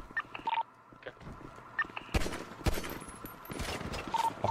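A shootout in GTA V on the NoPixel roleplay server, where sparse quiet clicks give way to a cluster of sharp gunshots and crackling fire, moderately distant and faint.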